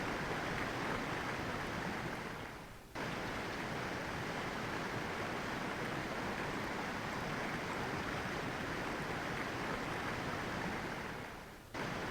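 Waterfall in a railroad-building video game, a steady, loud rushing roar of falling water that fills the whole stretch, briefly dipping twice before surging back, with no talking.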